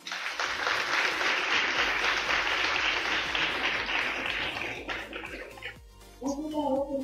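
Audience at a festival anniversary event clapping loudly for several seconds, the applause thinning and dying out before a voice begins speaking.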